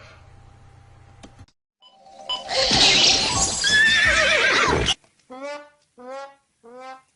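A loud pony neigh with a rough, trembling whinny, followed by several short, clear hoofbeat-like clip-clops, with no talking.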